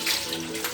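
Washed dishes are rinsed directly under running tap water, making a brief, close, steady splashing rush with no talking.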